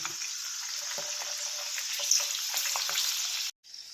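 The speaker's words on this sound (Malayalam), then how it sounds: "അപ്പോൾ എണ്ണയൊക്കെ ചൂടായി വന്നിട്ടുണ്ട് അതിലേക്ക് നമുക്ക് കുറേച്ച് ഇട്ട് കൊടുക്കാം കടല" Green peas spooned into hot oil on a low flame sizzle and crackle steadily for a few seconds, close and moderately quiet, then cut off abruptly.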